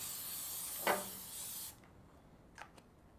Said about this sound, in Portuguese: Untamos um pouco com spray de óleo.